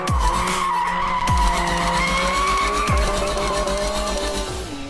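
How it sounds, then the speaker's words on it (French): A Porsche 718 Cayman GT4 RS flat-six howls at full acceleration, its loud rising engine note climbing repeatedly through the gears with sharp drops at each upshift, close and continuous. "le flat 6 devient mémorablement violent au-dessus des 8000 tours minute"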